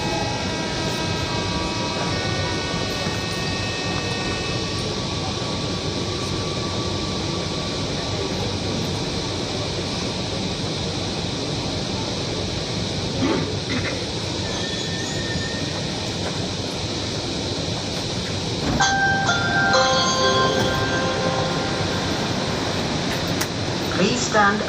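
Steady rolling rumble and whoosh inside a moving Kochi Metro train carriage, with faint tonal whines and a brief chime-like electronic tone near the end, continuous and fairly loud throughout.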